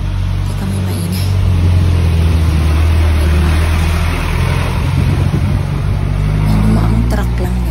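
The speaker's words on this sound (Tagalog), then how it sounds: "Ang truck lang" A truck passes close by with a deep, loud engine drone that builds through the middle and stays heavy and rumbling. A faint voice is barely audible beneath it.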